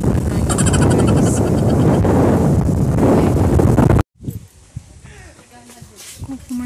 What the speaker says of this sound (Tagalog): Ang lamig ng hangin.